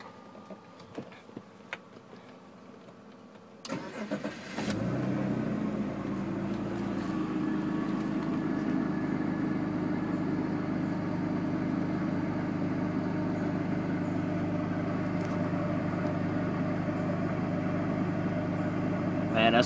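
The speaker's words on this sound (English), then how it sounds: "let's go ahead and fire it up. Fire up the car." A BMW 3 Series car engine cranks over and catches about four seconds in, then settles into a steady, close idle that hums on alone for the rest of the stretch.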